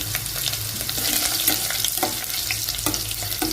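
Cinnamon and garlic fry in a hot pan for horse gram sambar, making a loud continuous sizzle with crackling pops and clinks of stirring throughout.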